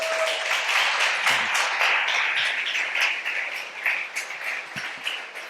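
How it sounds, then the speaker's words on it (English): Hall audience applauding after an arts talk, continuous moderate clapping that swells early and gradually thins toward the end. "A big applause for the Renaissance man"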